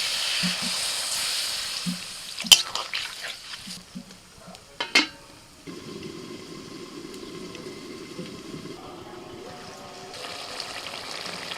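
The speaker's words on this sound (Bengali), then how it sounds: "মিনিট দুয়েক নাড়াচাড়া করে এবার একটু জল দিয়ে দিচ্ছি" Onion leaves stirred in a pan with a few scraping knocks, then water poured in, setting off a steady soft sizzle and bubbling that carries to the end, close and moderately quiet with no talk.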